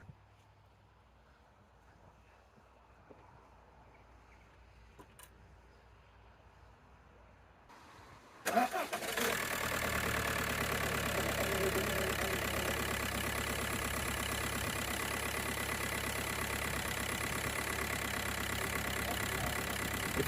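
A diesel Audi A6 with a suspected fuel airlock cranks and catches after a quiet stretch, then settles into a steady, loud, continuous idle close by with no talk over it.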